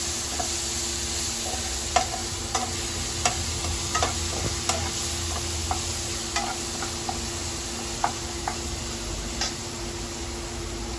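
Onions frying in a pan as ginger-garlic paste goes in: steady quiet sizzle with sharp spoon taps and scraping strokes at irregular intervals, no voices.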